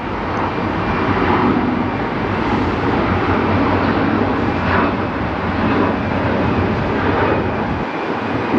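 An airliner inbound from Birmingham, Alabama clears the runway at DFW airport with a loud, steady, broadband jet roar that holds for the whole stretch, with no voices over it.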